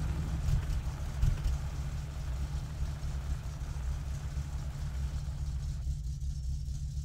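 A car in the video game My Summer Car drives along with a fresh front-end alignment, its engine giving a steady low hum and road rumble at moderate level, with no talking.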